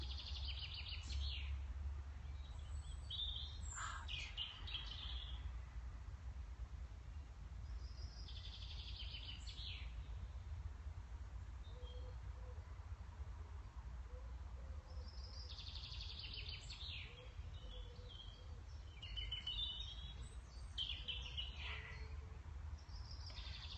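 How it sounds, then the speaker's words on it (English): Birds singing in a wood, with scattered chirps and short song phrases drifting in and out at moderate distance over a steady low rumble, no voices. "These birds are singing the hell out of this wood"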